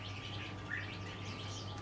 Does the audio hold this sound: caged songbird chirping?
yes